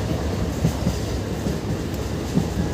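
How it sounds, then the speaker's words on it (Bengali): Inside the Tarakeshwar–Goghat local train on a single-line track, a loud continuous rumble with light rhythmic wheel clatter, no talking. "আমাদের ট্রেন কিন্তু এখন সিঙ্গেল লাইনে চলছে"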